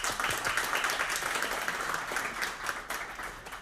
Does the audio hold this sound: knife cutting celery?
no